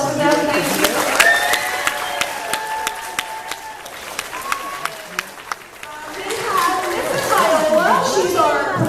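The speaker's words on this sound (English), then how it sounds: "We have a round of applause for them." Audience at a spring school play: scattered, sharp claps ring out amid lively crowd chatter and children's voices, the clapping sparse and uneven rather than a full ovation.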